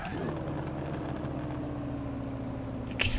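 A steady car engine idles in the video game Forza Horizon 4 with a low droning hum, holding an even pitch throughout, with a brief louder burst of throttle right at the end.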